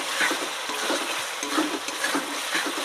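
Chicken being stir-fried kosha style in a pan, a steady close sizzle with irregular scraping and stirring strokes running throughout.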